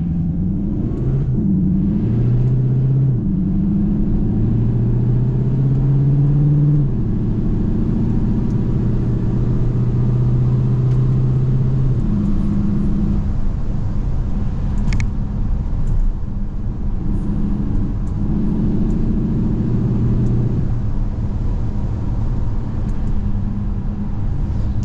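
CUPRA Leon e-Hybrid Sportstourer engine and exhaust on the move, a steady loud low rumble that swells and eases as the car accelerates, with no talking over it.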